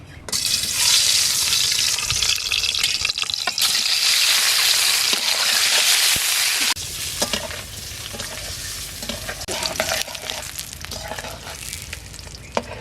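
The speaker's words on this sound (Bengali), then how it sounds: "তেল গরম হয়ে গেছে, ডিমটা ভেজে নিচ্ছি।" An egg frying in hot mustard oil in a wok. A dense, loud sizzle carries on alone and settles into a lighter crackle partway through, with occasional scraping and stirring.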